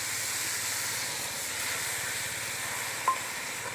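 Chicken rezala frying in a pan after green chili paste is added, giving a steady, even hiss of sizzling oil throughout with one brief sharp click near the end, close and without talk.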